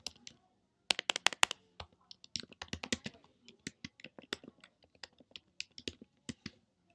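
Close, crisp keystrokes on a computer keyboard come in irregular bursts of quick typing separated by brief pauses, with no talking.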